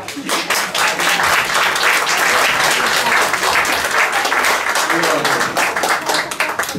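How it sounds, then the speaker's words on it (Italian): An audience at a blues tribute event applauds a woman as she is welcomed. Loud, dense clapping rises quickly and stays strong and even for several seconds, with some voices mixed in beneath it. "un applauso a Monica"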